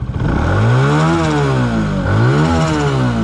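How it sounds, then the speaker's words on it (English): A small Honda Grom or Benelli TNT 135 motorcycle with a loud, raspy muffler revs high close by, its pitch sweeping up and down twice in quick succession. "I'm all the way up, revved up at 10 RPM, guys."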